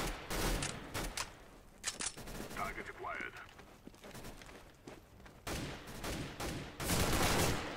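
Rapid bursts of automatic rifle fire and single gunshots in Counter-Strike: Global Offensive, loud and close, in repeated volleys separated by short pauses, with a voice talking quietly in between.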